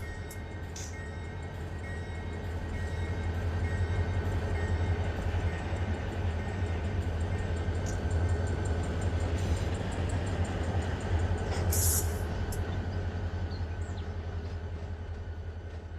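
An SD40 diesel locomotive in the Run 8 train simulator pulls a yard transfer, a steady low engine drone and rolling rumble holding constant throughout with a few faint high squeals.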